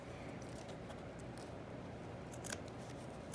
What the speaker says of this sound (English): So I'm going to come in with my snippet scissors.